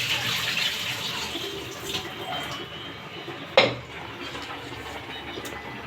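Water running and splashing in a kitchen sink while vegetables are washed, with a continuous rushing flow, a few light clinks and one sharp knock midway, close by.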